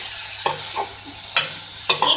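A spiced mixture sizzling in a frying pan as it is stirred, three sharp scrapes of the spoon against the pan over a steady low sizzle, close and fairly loud.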